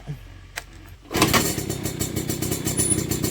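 A TVS XL Super two-stroke moped engine catches after a few faint cranking clicks, then settles into a steady, buzzy idle close by.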